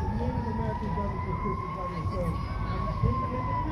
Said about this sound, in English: Always sirens in the city.